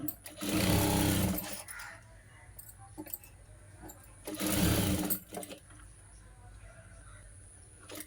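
A sewing machine stitches a blouse shoulder seam in two loud bursts of rapid whirring stitching separated by a pause, with light clicks and fabric handling in between.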